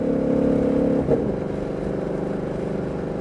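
A 2020 Shelby GT500 accelerates on a race track. A steady engine drone and whir is heard from inside the car, with a brief shift or clatter near the start, then a continuous pulling tone.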